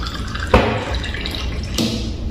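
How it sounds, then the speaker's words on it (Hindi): A glass of water is poured into a pressure cooker before dough balls go in to boil for dal bati, giving a short splashy pour with a sharp splash near the start and another toward the end, no voices. "ये 1 गिलास पानी कुकर में डालेंगे।"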